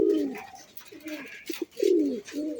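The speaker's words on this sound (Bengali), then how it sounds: "প্রতিনিয়তই কবুতরটা ডাকে।" A pigeon coos repeatedly in low, throaty rolling phrases, close and fairly clear, with short pauses between the calls and no talking.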